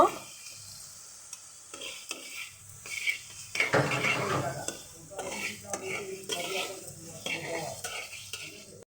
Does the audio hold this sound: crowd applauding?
no